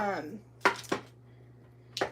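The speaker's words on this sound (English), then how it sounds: "I'm gonna grab a knife over here really quick. And I'm gonna get this cut up." A knife on a cutting board chops food into small cubes for biscuits during Thanksgiving kitchen prep, giving three sharp, close chops spread apart over a low steady hum.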